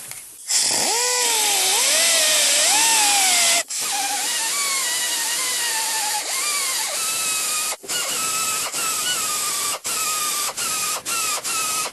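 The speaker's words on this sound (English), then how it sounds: "I'm not going to grind too much because I don't want to go through the metal" Power grinder working down rust on an old van body panel, a loud continuous whine that rises and falls in pitch as it bites the metal, then several short bursts with brief stops, close up and alone.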